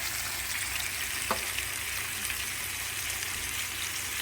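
Minced garlic sizzles steadily in a hot pan, a soft continuous crackle with low background hum and one brief clink.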